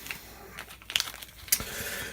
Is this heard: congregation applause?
no